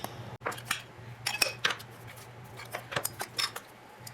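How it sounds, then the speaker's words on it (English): A whisk clinks rapidly against a bowl while it mixes a sauce of apple cider vinegar, Dijon mustard, garlic powder, salt, pepper and dill, giving bursts of close metallic tapping in an irregular rhythm with no talk. "And then we're going to whisk this together."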